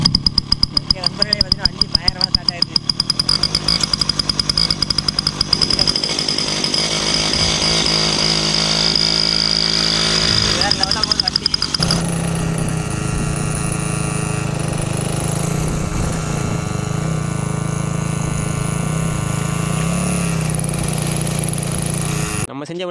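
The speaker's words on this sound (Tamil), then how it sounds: "நம்ம செஞ்ச வண்டி பார்த்தீங்கன்னா சூப்பராக ஓடுது." A homemade ATV bike's small engine runs steadily with a buzzy, raspy drone like a chainsaw, loud and close throughout, changing pitch partway as it revs and moves.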